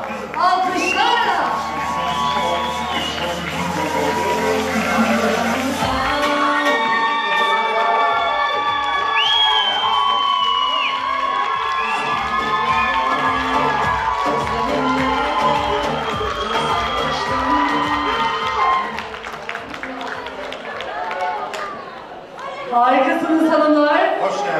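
Cheering and whooping from an award ceremony audience greet a winning duet, a dense, loud crowd roar with shouts that carries steadily for about twenty seconds, briefly dips, then swells again at the end.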